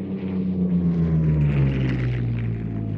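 A Hispano Buchon and a P-51 Mustang warbird fly a dogfight display at the Old Buckenham Airshow 2021, their piston engines giving a loud, continuous droning roar that shifts in pitch as the aircraft pass.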